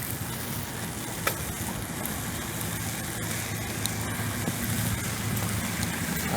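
First rain of the season falling in Arcata, California in November, a steady dense patter and hiss with occasional sharper drops, continuous and even throughout with no one speaking.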